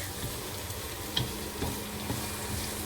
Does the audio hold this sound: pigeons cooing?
no